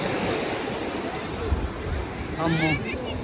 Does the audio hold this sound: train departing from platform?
no